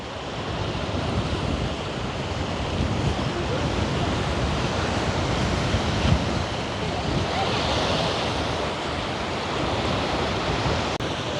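Wind blowing steadily over a village pond, a continuous broadband rushing roar with microphone buffeting and no clear pauses.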